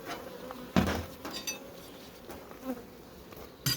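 Honeybees buzz at an old beehive outdoors, a steady close hum broken by a few sharp knocks and clinks of hive parts.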